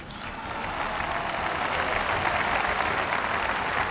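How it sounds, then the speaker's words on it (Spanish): A large audience at a government anniversary event bursts into sustained applause, a dense, even roar of many hands clapping that holds steady and loud throughout. "un aplauso"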